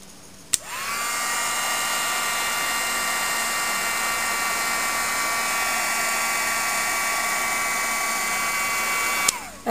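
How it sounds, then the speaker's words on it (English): A heat gun blows hot air over gesso on a paper collage, a steady loud whirring hiss with a high motor whine that starts abruptly, holds evenly for about nine seconds, then cuts off. "Hit it with the heat gun again."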